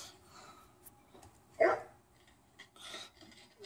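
A hyper dog gives one sharp bark near the middle, with quieter yips and faint rustling around it against a mostly hushed background.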